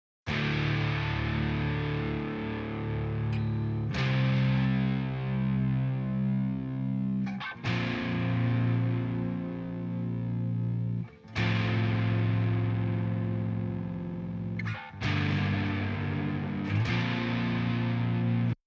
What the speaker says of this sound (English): So listen, here are the guitars during the climax.